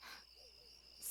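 Crickets in the game Yakuza 4 Remastered chirp in a thin, continuous high drone, steady and fairly loud, with a faint low hoot-like tone underneath.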